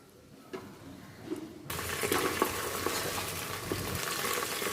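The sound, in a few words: mint leaves sautéing in oil and ghee for chicken biryani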